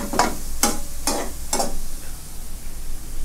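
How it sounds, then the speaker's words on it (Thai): Stir-frying in a pan at medium heat: four quick, evenly spaced scrapes of a spatula against the pan ring out over a low, steady sizzle, and the final seconds carry on with only the soft hiss of frying. "ผัดให้หอมนะครับ"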